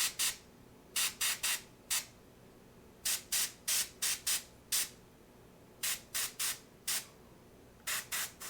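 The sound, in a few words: airbrush spraying paint on a miniature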